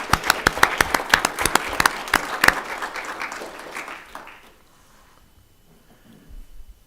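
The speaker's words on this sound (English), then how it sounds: "if we could give her a little round of applause" A town council meeting audience gives a round of applause, a brisk burst of fairly close claps that thins out and fades to near silence after about four seconds.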